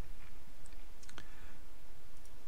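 A computer mouse clicks a few times, quietly and close, while streaming software is being set up on a computer; the short clicks stand out faintly against a soft background hiss.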